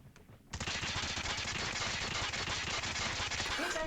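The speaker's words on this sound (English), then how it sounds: "As you can see, decent hip fire." Rapid automatic gunfire from a Switchblade weapon fired from the hip in a ranked video game match, a dense continuous burst running close and loud for about three seconds after a brief quiet start.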